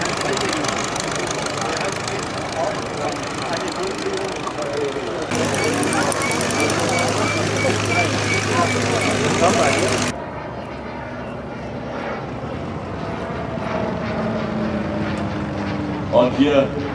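Vintage aircraft engine running at a vintage aircraft meet at Hahnweide airfield, ahead of sightseeing flights: a loud, steady engine drone close by, shifting in tone partway through and easing down toward the end.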